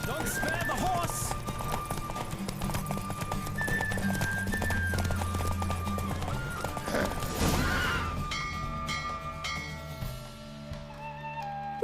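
A horse galloping in a race in The Witcher 3, rapid hoof clip-clops with whinnies under game music and a voice talking, the music shifting near the end.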